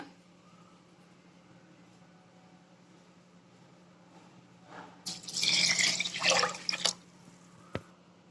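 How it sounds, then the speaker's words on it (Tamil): Water is poured into a pressure cooker holding soaked rice and lentils: quiet room tone, then a close splashing pour of about two seconds, followed by a single sharp clink. "இதோட 6 டம்ளர் தண்ணி சேர்த்துக்கோங்க."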